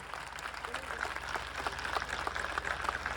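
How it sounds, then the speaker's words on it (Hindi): A crowd at a Christian revival crusade in Pakistan claps for Jesus. The clapping is steady and fairly distant, with sharp individual claps over an even wash of applause. "आए यीशु के लिए जोरदार तालियां"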